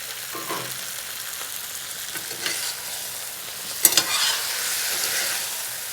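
Zucchini fries in olive oil in a pan, a soft steady sizzle with a few utensil scrapes and a sharp clatter near the middle, followed by a brighter burst of hissing.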